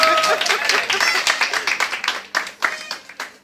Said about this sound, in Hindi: भाभी जी के लिए जोरदार तालियां।